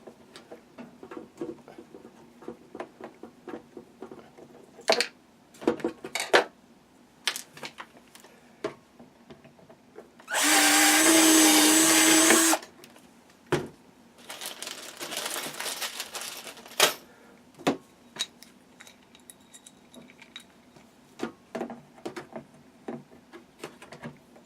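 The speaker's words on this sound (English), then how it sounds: "Let's drill out the next hole" A power drill bores out a hole in a toy dump truck being converted to RC, a loud steady whine lasting a couple of seconds. Before and after it come sharp scattered clicks and snaps of a rivet gun fixing a plate, close by.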